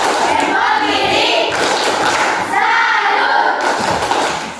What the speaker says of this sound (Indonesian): ayo kita beri tepuk tangan untuk kawan kita dulu